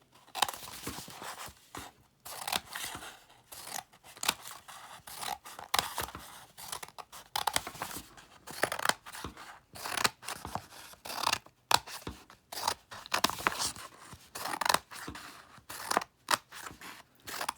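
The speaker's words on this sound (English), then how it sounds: "I cut all the way across." Scissors cut paper strips for a paper wreath, with close, rhythmic snips and crisp slicing strokes repeating steadily throughout.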